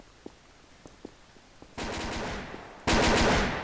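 A Tommy gun fires in Garry's Mod: after a few faint clicks and taps, two loud sustained bursts of automatic fire ring out close by, the second following a short pause.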